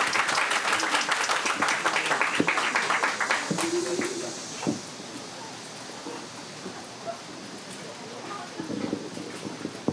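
Applause from guests at a Korean traditional wedding ceremony, a burst of clapping at first that thins and fades into scattered claps and room noise with voices murmuring.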